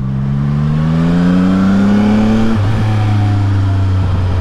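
CF Moto 675 NK motorcycle with a stock inline engine, revving steadily with a rising pitch, then dropping off into a lower note with a few crackling exhaust pops on the overrun, close and loud, no talking.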